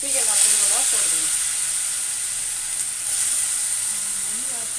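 Ridge gourd powder sizzles and fries in homemade ghee in a pan, a steady close hiss with soft stirring scrapes throughout and faint voices underneath.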